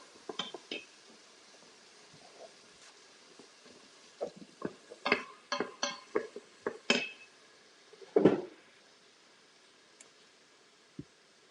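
Onion is stirred in melted butter inside an Instant Pot, giving scattered clinks and scrapes of a utensil against the metal pot, soft and close, with clusters of taps and a quiet background between them.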